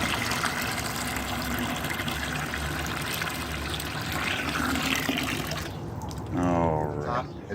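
Water drains steadily through a homemade water purification filter built from budget parts, a continuous close rushing and trickling that runs throughout before easing near the end.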